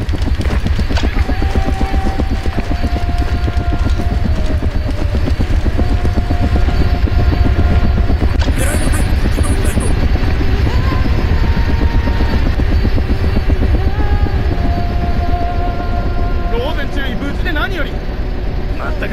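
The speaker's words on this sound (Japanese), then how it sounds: "ヘリが向かっている。" A helicopter approaches in the video game Ghost Recon Advanced Warfighter 2, its steady rotor chop pulsing loud and continuous under Japanese-language military radio talk and game effects.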